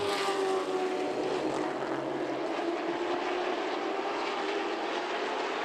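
Stock race car engines roar on the oval at Myrtle Beach Speedway, a steady loud drone with a sustained engine tone held at full throttle, continuous and close, with no talk.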